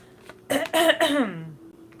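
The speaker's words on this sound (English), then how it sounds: "So forgive me for if I have to clear my throat." A single throat clearing during a tea and tarot reading, close and fairly loud, lasting about a second and trailing off into a low voiced rumble.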